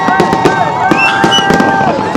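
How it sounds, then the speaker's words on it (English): New Year fireworks crackle and pop continuously in a loud, dense barrage, with excited voices talking over the display. "We still feel like a kid when I see these fireworks."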